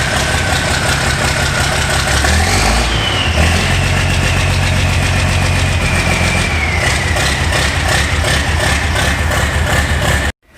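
A John Deere 4440 tractor engine runs close by with a loud, steady diesel rumble. The revs rise and fall slightly partway through, and the sound cuts off sharply at the end.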